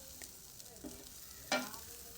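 Prawns frying with spice powders in a pan, a soft steady sizzle broken by a few light stirring scrapes, one sharper near the end.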